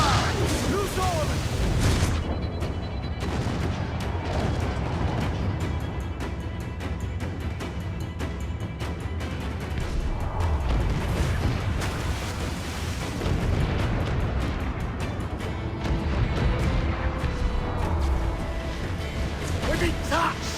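Ship cannon broadsides in the naval game Assassin's Creed IV Black Flag boom in heavy, rolling volleys with rumbling impacts and crackling bursts, loud and dense throughout, mixed under shouted crew commands and game music.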